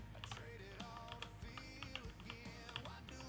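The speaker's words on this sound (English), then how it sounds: "I'm typing without looking at my keyboard." Quick, irregular clicking of typing on a computer keyboard, close and fairly quiet, with other faint game or background sounds mixed in.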